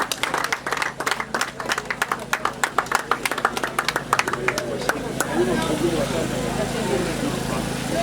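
Crowd clapping for the arrival of baby Marguerite at her baptism in the Nganga Lingolo parish, loud uneven claps in the first five seconds, then a denser murmuring crowd with voices talking.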